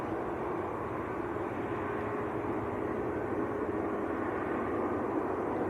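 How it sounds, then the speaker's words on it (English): An Abu Dhabi flight departing Manchester Airport, a moderate steady jet engine drone with low rumble and a faint whine, continuous and without talk. "just the Abu Dhabi flight coming out"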